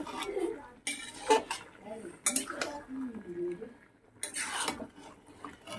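A utensil stirs chicken that has released its water in a cooking pot, giving close, intermittent bursts of scraping and clinking against the metal, with a faint voice in the background.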